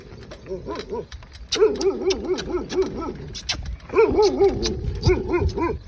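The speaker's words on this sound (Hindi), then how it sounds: "ये जंगली कुत्ते थे, कुछ भी कर सकते हैं" Several wild dogs encountered on a morning bicycle ride bark, yelp and whine close by in overlapping, rising and falling calls, with louder bursts of barking.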